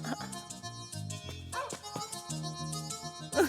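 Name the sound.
dog barking, a labrador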